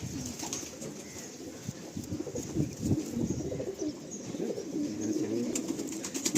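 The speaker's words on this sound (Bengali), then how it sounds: "আচ্ছা দেখো এই পায়রা একদম পিলাঙ্কা আইজের মধ্যে।" Pigeons from a breeding pair of Kalenka-line birds coo repeatedly and close by in a loft, their soft low calls layered over a busy, continuous background with occasional higher chirps.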